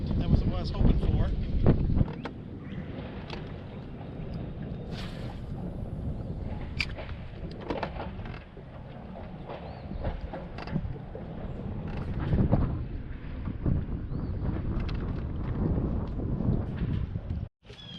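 Wind gusts across the open water of Lake Lanier while fishing from a boat, buffeting the microphone with a low, rumbling roar that rises and falls, with faint knocks and hull sounds.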